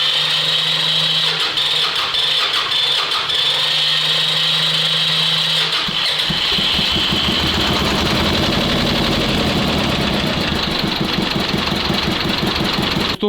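Engine of a T-16 loader-manipulator running steadily, then restarted and settling into a loud, rough, rapidly knocking diesel chug for the rest of the clip.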